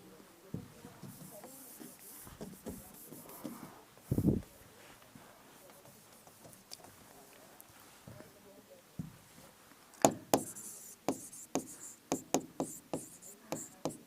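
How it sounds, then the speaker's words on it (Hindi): Chalk or marker scratches and taps on a board as handwritten text is erased and rewritten, mostly faint strokes with a burst of quick, crisp taps near the end, while someone speaks intermittently. "मैं इसको मिटा के फिर से लिखता हूं।"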